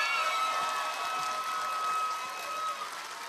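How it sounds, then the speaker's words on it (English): Audience applause for an award winner at a deep learning conference ceremony, a steady dense wash of clapping at moderate level that thins slightly toward the end, with a faint sustained tone running through it. "please join me in giving a very loud, noisy, warm round of applause to Elizabeth Benson"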